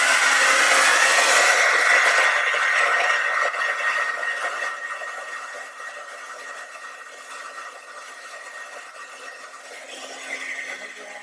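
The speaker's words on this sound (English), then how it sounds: "Just take your blow dryer and remelt it." A hair dryer blows steadily on wax seals to remelt the wax, loud and close at first, then settling to a slightly softer continuous whir for the rest of the stretch.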